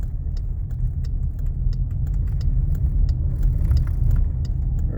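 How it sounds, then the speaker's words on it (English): A car passing on a rural road, heard from a tractor hauling a 14-foot-wide disc at about 22 miles an hour, a steady low engine rumble with light rattling and clicking throughout, no talk. "Oh, oncoming car."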